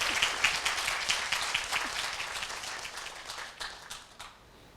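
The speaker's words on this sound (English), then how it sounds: "Let's give her a round of applause." Audience applause after a speaker shares an emotional story at a community outreach healthcare talk, a steady wash of many hands clapping from a medium-sized crowd that gradually thins and fades toward the end.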